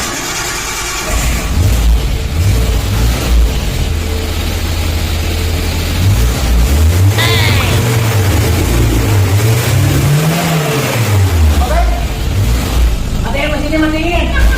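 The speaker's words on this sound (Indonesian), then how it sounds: "mesinnya mau dicoba dulu nih" A car engine in a comedy skit revs in rising and falling sweeps, loud and close, with people talking and shouting over it throughout.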